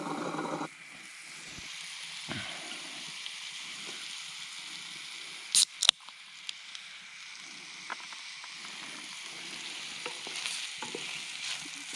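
Sausages fry over an outdoor campfire in a steady, close sizzle with soft stirring, broken by a couple of sharp metallic clinks midway; no one speaks.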